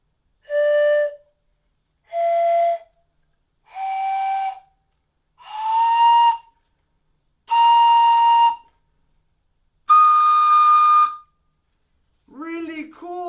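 Peruvian pan flute playing six separate breathy notes, each about a second long and climbing in pitch step by step, close and clear, followed by a short burst of talking at the end.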